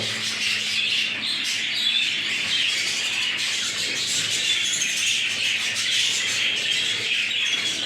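Budgerigars in an indoor aviary chirping and twittering steadily, a dense, continuous chorus of high chatter throughout, close and moderately loud, with no talk.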